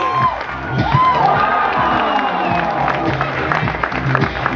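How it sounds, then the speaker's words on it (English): Spectators at a motocross jump show cheer, whoop and applaud loudly together. Shouts and clapping blend into a sustained roar that includes children's voices, and an announcer's voice sounds faintly beneath. "let's give Balin a big round of applause"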